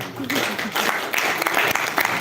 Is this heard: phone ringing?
no